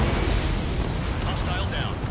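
A missile explosion in a combat flight game rumbles as a dense, sustained low blast filling the whole stretch, loud and close, with faint radio-style voices underneath.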